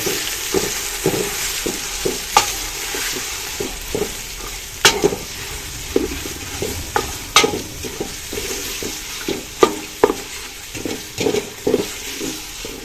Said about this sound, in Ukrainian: Тепер обсмажуємо з цибулею